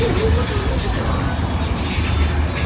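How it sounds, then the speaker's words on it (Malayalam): Steady rumble and rattle of a passenger train in motion to Zakopane, Poland, heard from inside, with a faint high whine running through and no talking. "ഇതാണ് നമ്മുടെ ട്രെയിൻ."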